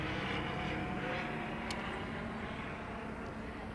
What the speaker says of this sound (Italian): Un altro aereo, tanto per cambiare.